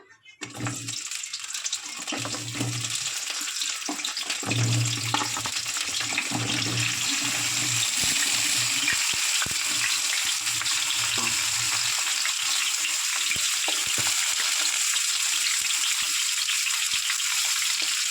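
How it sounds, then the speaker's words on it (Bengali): Pointed gourd (potol) pieces sizzle steadily in hot oil for prawn-and-potol cooking, a loud continuous hiss with occasional stirring clatter throughout. "তেল গরম হয়ে গেছে, দিয়ে দেবো পটলগুলো।"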